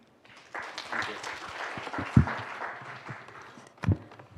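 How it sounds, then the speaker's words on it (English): A conference audience applauds after a scientific presentation on cell and gene therapy, a moderate wash of clapping over about four seconds with a couple of sharper thumps near the microphone. "let's applaud again for his presentation."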